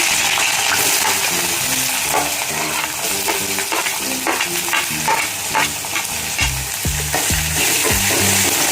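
Chopped onion drops into hot oil in a pan for chitranna made from leftover rice, producing a loud, continuous close sizzle with scraping stirs and occasional clinks of the spoon.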